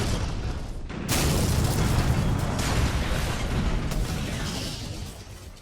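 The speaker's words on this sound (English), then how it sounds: "A deafening explosion shook the Chicago Police Department." Truck exploding near a Chicago police department in an audio drama: a deep, loud rumbling blast that swells after a second and rolls on for several seconds before slowly fading.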